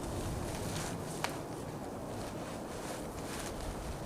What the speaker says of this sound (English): The wind gusts right across the snow, right over top of your head.